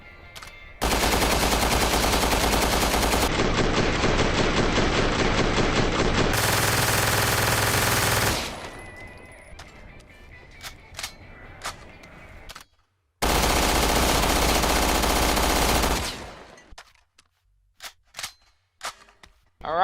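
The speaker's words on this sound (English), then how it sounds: "Rapid-fire machine pistol with low firepower yield for each bullet." An Ammo Box 50 machine pistol fires in Resident Evil Revelations 2 as long, loud, continuous bursts of rapid game gunfire. Scattered single shots and clicks follow the bursts, with no talk.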